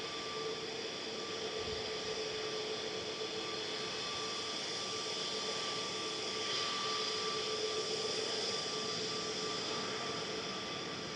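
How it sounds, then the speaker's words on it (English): A Ryanair Boeing 737 MAX 8-200 jet taking off at Manchester Airport, heard as a distant, steady roar that holds at an even level throughout without voices. "That was Ryanair 4027 to Alicante, EIIJY, just about to lift off any moment."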